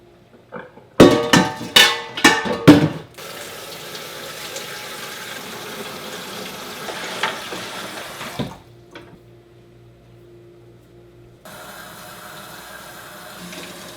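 Tap water runs into a pot to dissolve alum mordant for sumac wool dyeing, opening with several loud sloshing bursts, then a steady close stream that stops briefly before a lighter flow resumes.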